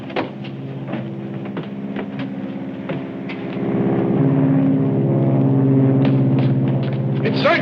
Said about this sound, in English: An aeroplane.